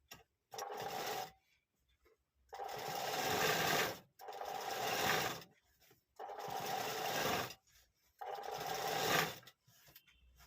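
Sewing machine stitching a fabric patch onto a ready-made blouse, running in four or five steady whirring bursts separated by short pauses, close and moderately loud with no talking.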